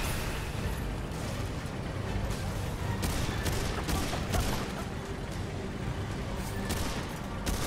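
Dense, continuous gunfire from the video game Remnant 2 crackles without pause, a loud sustained barrage of rapid shots and impacts filling the whole stretch.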